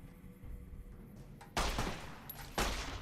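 Gunfire in the Fallout: New Vegas video game at Fortification Hill, with two sharp, loud bursts of shots about a second apart over low background game ambience.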